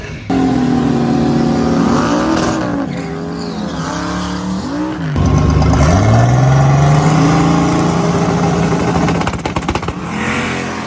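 Old gold Nissan Z accelerating hard on a quarter-mile run, loud engine revving through rising sweeps with gear-change dips and a big surge midway, heard close from inside or near the car, with no one talking.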